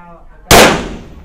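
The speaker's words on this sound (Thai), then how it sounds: "ตัวนี้เดี๋ยวขอลองทดสอบยิงนะคะ" A single sharp, loud 9mm pistol shot from an Alien handgun at a test firing, cracking suddenly after a quiet moment and ringing off briefly.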